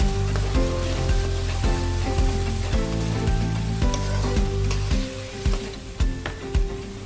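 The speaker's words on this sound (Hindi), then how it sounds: "मसाले को अच्छी तरह भूनना है" Spiced masala with whisked yogurt frying in ghee for a gram-flour fritter curry, close crackling sizzle with a few spoon knocks against the pan, no talking.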